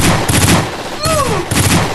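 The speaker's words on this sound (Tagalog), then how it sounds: "Nagpaputok naman." Gunshots crack out in a tense Ilocano drama scene, two or three loud bursts of gunfire with a brief whistling streak in between, close and sharp against a noisy background.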